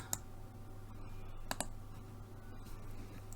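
Sparse, sharp computer keyboard and mouse clicks, a few isolated taps spread over a low steady hum, quiet and close.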